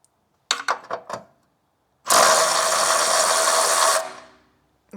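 A ratchet works at a 10mm earth strap bolt running up to the gearbox on a Lexus, a few quick clicking strokes followed by a sustained two-second mechanical whir, close and loud.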